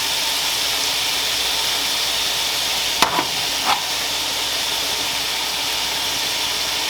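Steak searing in a hot pan after a generous salt and pepper seasoning, a steady broadband sizzle holding throughout with a couple of brief sharp crackles midway, no talk.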